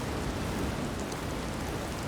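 Steady rain falls in the Skyrim game world, a dense, even hiss of drops with a soft low rumble underneath, continuous and fairly loud with no talking.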